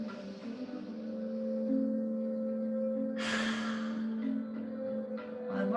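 A single deep breath drawn in through the nose during a slow yin yoga session, rising as a soft airy rush midway through and fading under a steady low drone.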